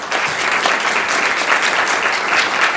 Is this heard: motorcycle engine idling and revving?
no